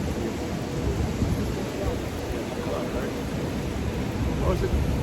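Steady rain falls at an outdoor camp in New York City, a continuous dense hiss with low rumbling underneath, close and fairly loud throughout, with a voice faintly under it.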